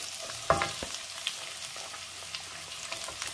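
Sliced onion hitting hot garlic-infused oil for a Kuttanadan duck curry, a loud sizzling burst with a clatter at the start, then a steady close-up crackling hiss with light stirring clicks.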